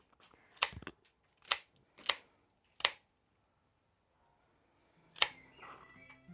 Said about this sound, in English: I'm going to snip the stems so that it's all nice and neat at